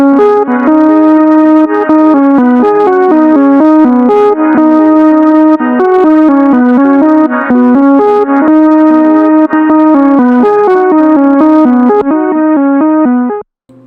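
Synthesizer melody loop for a beat with a neon-light electronic feel: a steady repeating sequence of bright, harmonically rich notes with effects, played loud and continuous for about fourteen seconds before cutting off abruptly.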